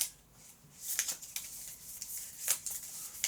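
Aeon's End cards being shuffled by hand, with a few quiet, papery riffles and flicks about a second apart and a soft rustle between them, close to the mic and with no talk over it.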